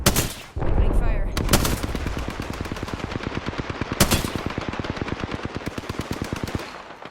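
Rapid automatic gunfire fills an Apex Legends firefight, with dense bursts of machine-gun shots rattling steadily and sharp louder cracks breaking in near the start and middle.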